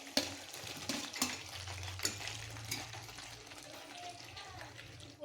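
Cauliflower and potatoes fry in plenty of oil in a pan, giving a soft steady sizzle with occasional stirring clinks and scrapes throughout.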